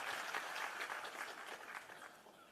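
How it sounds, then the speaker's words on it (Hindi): Audience applause welcoming the minister at the Bihar Investors Meet startup event: a fairly quiet, continuous patter of many hands clapping from across a hall, slowly fading, with no voices over it. "स्वागत कीजिए तालियों से"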